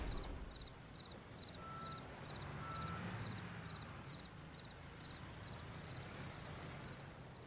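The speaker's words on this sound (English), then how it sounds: "these crickets sound good now. These are normal crickets." Crickets chirp in the ambient soundscape of the video game Resident Evil Requiem, a faint, evenly spaced high chirping repeating steadily over a low, hissy background with no other clear sounds.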